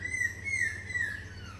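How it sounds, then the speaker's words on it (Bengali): At dawn at a resort, small birds chirp in short repeated calls, soft and a little distant over a low steady hum. "পাখির কিচিরমিচিরের শব্দ,"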